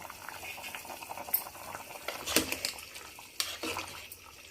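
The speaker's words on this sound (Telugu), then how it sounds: "పసుపు, ఉప్పు, కారం వేసి కొన్ని వాటర్ పోసాను. చక్కగా మగ్గుతున్నాయి." Sambar vegetables, potato and brinjal with turmeric, salt and chilli powder, simmering in water in a pot, a faint, soft bubbling with scattered small pops and gurgles, close by and without talk.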